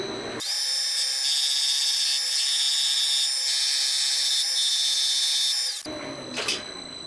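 A high-pitched power grinder cuts into part of a Honda Monkey engine's four-cylinder cylinder head, running steadily and loudly for several seconds near the microphone before stopping, leaving a brief quiet tail.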